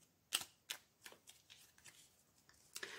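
A deck of angel oracle cards slipping and shuffling, a series of soft crisp clicks and flutters coming in an uneven rhythm, quiet and close with no voice.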